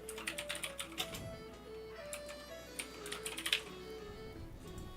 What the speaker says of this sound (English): Nobody decipher my card information by the clicking sounds from my keyboard.